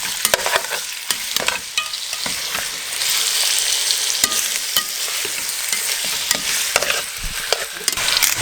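Chicken stew ingredients frying in extra virgin olive oil for a Spanish chicken stew, a steady close sizzle with clattering stirring throughout, loudest in the second half, with no talking.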